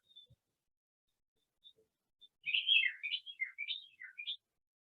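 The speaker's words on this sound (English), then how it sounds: "I'm hearing the birds chirping," Birds chirping outdoors in the morning: a rapid run of bright tweets and warbling calls lasting about two seconds, moderately faint and heard alone after near silence.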